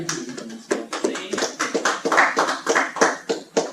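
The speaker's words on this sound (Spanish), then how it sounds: "Un aplauso" A small group at the close of a recycled-plastic materials project presentation claps in uneven, distinct bursts, each hand strike audible and close, with no talking.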